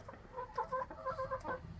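Several chickens cluck in short, repeated bursts close by, quiet and busy with overlapping calls.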